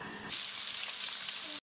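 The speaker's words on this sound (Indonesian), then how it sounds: "sekarang aku melanjut untuk goreng ikannya satu persatu" Fish coated in flour drops into hot oil in a wood-fired kitchen and bursts into a loud, bright sizzle that holds steady for over a second, then cuts off abruptly.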